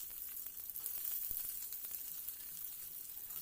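Onion and green chili fry in a pan of hot oil for vegetable masala Maggi noodles, a steady soft sizzle and crackle throughout with one faint stir, no voices.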